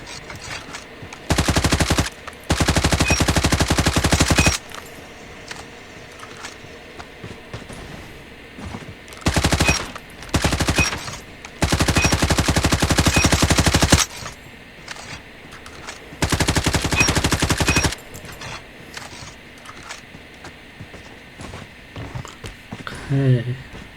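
Automatic rifle fire from the CR-56 AMAX in a ranked Call of Duty match: several sustained full-auto bursts, each lasting one to three seconds, separated by short pauses, loud and close.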